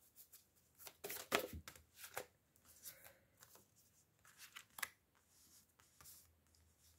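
Tarot cards being drawn and handled, a few crisp shuffling and sliding card sounds in bursts, close and fairly quiet with small rustles between, no talking.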